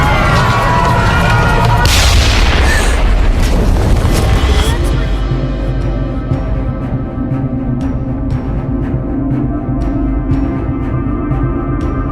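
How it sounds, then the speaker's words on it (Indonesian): A volcanic eruption of Krakatau: a deep, heavy boom rumbles out, followed by a long low roar that slowly fades, with crackling debris-like noise in the first seconds. "satu ledakan yang sangat keras terjadi"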